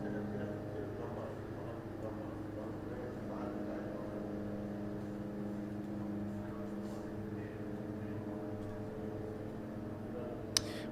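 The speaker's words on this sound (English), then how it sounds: "Yes, Fraz, that's the drones." Drones flying overhead at night, a low steady droning hum with stacked tones, faint and distant and unchanging, with a brief click near the end.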